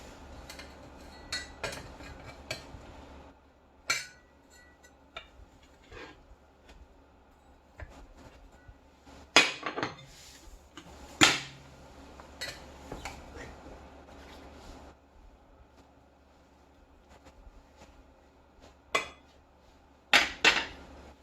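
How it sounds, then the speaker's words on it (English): A serving of fresh, steaming vegan pot pie is scooped onto a plate, giving scattered close clinks and scrapes of utensil against dish between quiet pauses. "And then we're gonna Scoop a piece into a plate"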